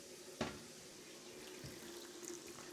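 Water runs steadily from a tap on a newly installed public water service line, a faint continuous hiss with a sharp clack early on and a softer thump later.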